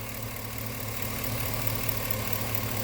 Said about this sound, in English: By the way, you can hear the engine.